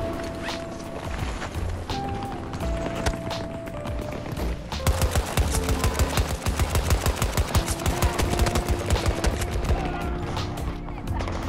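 An automated sentry gun fires rapid bursts in Battlefield 2042, a dense run of sharp shots in the middle of the stretch amid other game noise and distant gunfire.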